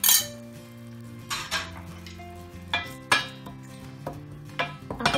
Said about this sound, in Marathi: आपण आता ते फ्राय करून घेऊया